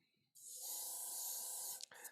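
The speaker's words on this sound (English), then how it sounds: "All right, so we're going to spray some water through it." Water sprays through an airbrush being cleaned, a loud steady hiss for about a second and a half that cuts off, followed by a brief sputter.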